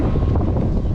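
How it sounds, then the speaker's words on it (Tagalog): Strong wind buffets the microphone in a loud, continuous rumble, with no other clear sound. "Sarap ng hangin."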